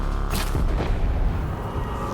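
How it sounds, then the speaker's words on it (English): A giant cannon fires in the video game Horizon Zero Dawn, a loud, sustained booming blast with a sharp burst near the start, rumbling continuously with no talk over it. "Can you aim that giant cannon of doom at something else, please?"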